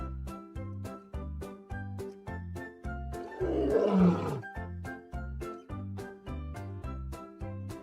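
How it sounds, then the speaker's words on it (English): A big cat's roar from a lion, a broad noisy swell lasting about a second, rising over a steady, rhythmic plucked and percussive music backing. "I hear a lion roaring in my ear."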